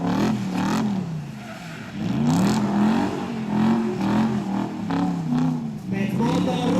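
A BMW 328 drift car at a drifting event at the Biķernieki track revs its engine repeatedly, the pitch rising and falling in waves. Someone talks over the engine sound throughout.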